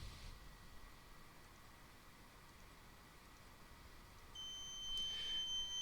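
A short, thin electronic beep from the platform probe of an Afinia H+1 3D printer during bed leveling, heard near the end over faint steady machine hiss in a quiet room.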